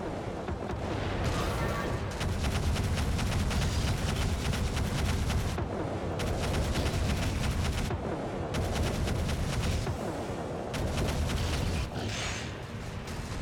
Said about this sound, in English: it shoots mortars at me?